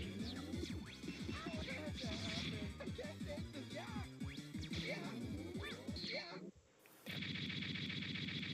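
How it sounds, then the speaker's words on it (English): A charged homing sniper shot in Mega Man 8 fires as rapid bursts of punchy blasts and impact crashes layered over busy game sound, then cuts briefly to near silence before the dense noise resumes. "The homing sniper can also be charged,"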